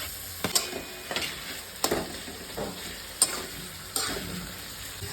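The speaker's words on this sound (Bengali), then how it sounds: "এবার আমি পেঁয়াজ বাটাটা দিয়ে দেবো।" Onion paste frying in a pan while a spoon stirs it, giving a steady low sizzle broken by a few sharp scraping strokes against the metal, close and clear, with no voices.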